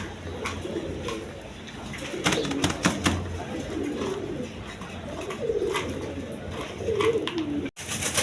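A pair of army pigeons, male and female, coo repeatedly in soft rolling phrases close by, with faint background noise and a brief dropout near the end.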